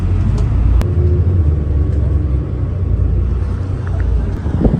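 Steady low engine rumble and road drone heard from inside a bus travelling through rural Japan, continuous and fairly loud with occasional faint knocks and rattles, no talking.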